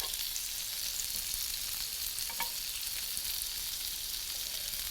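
Tofu and tempeh steaks sizzle on a char grill pan outdoors in a garden, a steady, close, hissing crackle that holds level without any talking.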